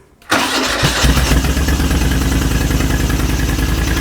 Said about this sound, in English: Let's turn it on and hit that start button.